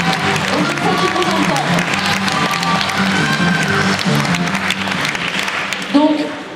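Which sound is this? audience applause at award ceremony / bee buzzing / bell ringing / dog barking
audience applause at award ceremony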